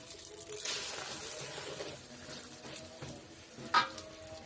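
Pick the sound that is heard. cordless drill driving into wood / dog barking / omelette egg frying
omelette egg frying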